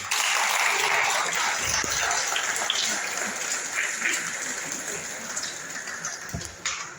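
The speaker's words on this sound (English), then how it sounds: "Pauline, give her a round of applause" Applause at a funeral gathering, a broad wash of clapping from a crowd that starts loud and slowly thins out over several seconds, with scattered voices underneath.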